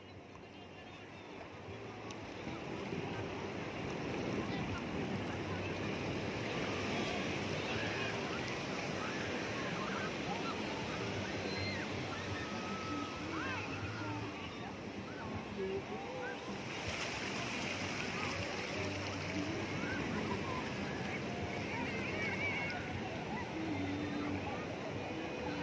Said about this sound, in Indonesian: Wih, ombaknya.